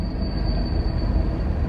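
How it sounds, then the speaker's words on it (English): A train rolls past nearby with a steady rumble and a thin sustained wheel squeal, alone with no talk. "And of course, there's a train."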